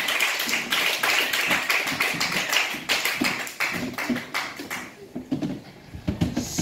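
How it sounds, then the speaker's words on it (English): A comedy club audience claps for a stand-up comedian, a dense run of hand claps with sharper taps, close and steady, thinning briefly near the end before picking up again. "I want everybody here to start clapping right now for Mr. Zorba, Javon Hughes."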